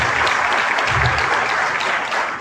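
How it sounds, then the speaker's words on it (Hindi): A congregation at a Sunday church service breaks into loud, dense applause, a steady close wash of clapping that tapers slightly at the end. "अपने लिए जोरदार तालियां बजाओ"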